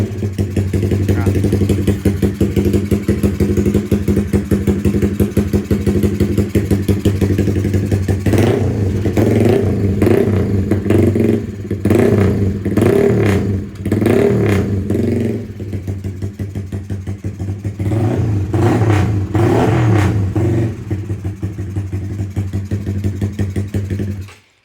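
Honda CB150R motorcycle bored up to 180cc and remapped, still in break-in, idles loudly and steadily and then gives several sharp rev blips in two bursts, close to the listener.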